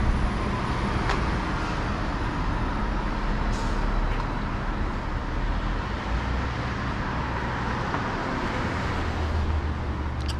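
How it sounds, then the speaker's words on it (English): A city bus passes on Haight Street in San Francisco, a sustained heavy engine drone and traffic roar with a brief air-brake hiss, loud and continuous. "Seems like every time I point the camera this way, we got a bus."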